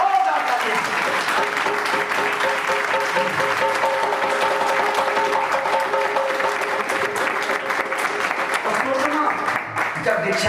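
Loud, sustained audience applause fills a spiritual discourse gathering, steady clapping throughout with music-like tonal lines running underneath.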